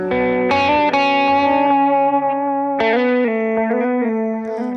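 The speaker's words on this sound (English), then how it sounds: "to give you an example of how best to use a delay" Electric guitar solo through a delay pedal, sustained distorted notes with audible echo repeats trailing each phrase, loud and close with two main note attacks and bends; no talking.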